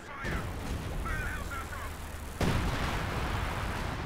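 Artillery fire in the Company of Heroes 2 strategy game, with a dull rumbling background of battle and a heavy booming impact partway through, carrying on loudly afterward.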